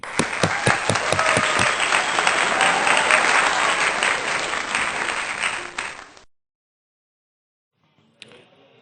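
A congregation at a Sunday church worship service breaks into steady, dense applause with a few sharp early claps, lasting about six seconds before stopping abruptly into silence, followed by a faint brief sound.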